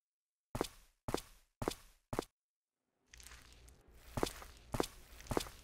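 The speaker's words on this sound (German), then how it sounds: "doch dann hörte sie Schritte nahen" Four distinct footsteps land in a slow, even rhythm inside a church in a video game, echoing clearly, followed by a denser stretch of shuffling steps and movement over a low background rumble.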